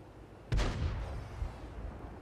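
An artillery shell strikes in a World of Tanks match: a sudden heavy boom lands abruptly, then a rumbling, crackling tail decays over the following second or so, with a smaller thump afterward.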